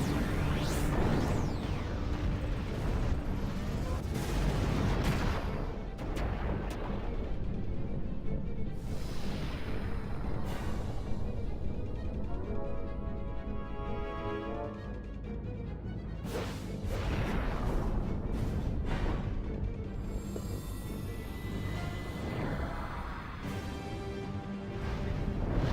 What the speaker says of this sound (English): Vegnagun, deploy overcompensation cannon.